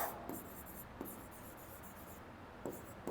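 Chalk or marker writing on a board during a Class 10 maths lecture, a few faint scratchy strokes at a steady pace with short quiet gaps, no talk.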